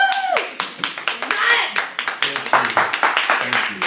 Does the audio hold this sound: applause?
yes